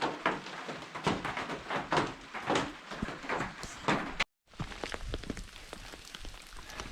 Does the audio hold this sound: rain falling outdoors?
yes